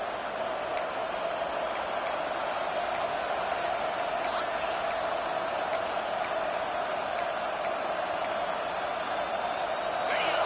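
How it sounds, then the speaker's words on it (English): A stadium crowd in an American football video game roars in a steady, dense wash of noise, loud and continuous throughout, with a few faint ticks sprinkled on top. "with this place rocking, the crowd forces a false start"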